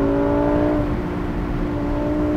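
A Lamborghini Aventador SVJ Roadster's V12 engine revs hard toward high RPM, a loud, sustained, close whirring roar with steady tones.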